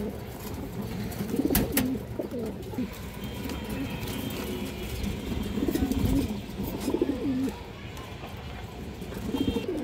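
Several pigeons coo in low, repeated throaty rolls close by, with a busy background and occasional faint talk mixed in.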